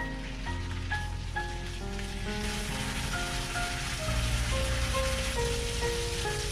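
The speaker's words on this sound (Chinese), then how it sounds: "下面开始炒肉。" Marinated pork shreds stir-fry in a little rapeseed oil, giving a steady, even sizzle that runs throughout beneath a layer of background music.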